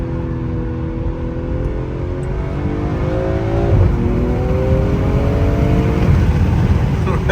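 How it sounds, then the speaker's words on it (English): A 2020 BMW M340i with the B58 turbocharged engine revs hard, its note climbing and swelling loud and close, then settling into a sustained rasping drone. "See if we can get the turbos cracking."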